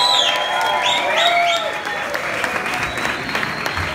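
An audience claps at a live event in Villafranca del Bierzo, steady applause that carries on under bird-like whistles and a voice.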